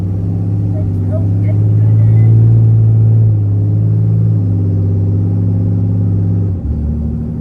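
Modified 2018 Ram 2500 with a Cummins 6.7 diesel driving along, a steady loud low engine drone that swells and settles as it shifts up through the gears, with a brief dip near the end.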